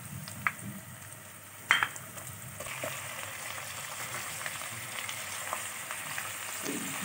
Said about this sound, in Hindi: प्याज हमारी लाइट ब्राउन होना शुरू हो गई है। अब हम डालेंगे इसमें गोश्त।